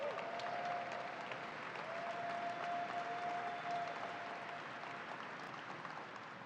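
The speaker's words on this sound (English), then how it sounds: "Let's give them a round of applause." A large crowd at the New York State Fair claps steadily and continuously, a dense wash of applause with a faint whistle or tone threading through.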